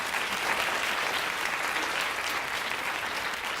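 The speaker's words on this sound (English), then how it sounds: "Let's give them all a round of applause." Steady audience applause for third grade participants at a school literacy event, a dense, even wash of many hands clapping throughout, fairly close and continuous with no speech over it.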